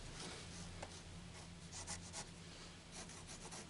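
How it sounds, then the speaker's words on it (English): A marker or pencil scratching a word onto a rough-cut white pine board, a quiet steady rubbing scrape with short strokes over a constant low hum. "So I'm going to write pad on this"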